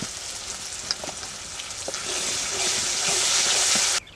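Ground paste of cumin, ginger, poppy seed and green chilli frying in oil, a hissing sizzle with a few stirring knocks that swells louder midway before cutting off abruptly.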